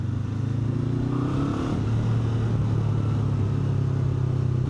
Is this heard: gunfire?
no